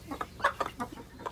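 Chickens cluck in short bursts, several soft calls spaced irregularly close by, with no talking.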